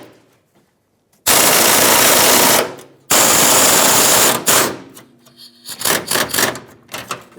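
A ratchet with a swivel socket works a bolt on the fuel tank strap of a 2013-2020 Nissan Pathfinder. Two loud, close bursts of rapid clicking come first, then shorter choppy ratcheting strokes and pauses, with no talking.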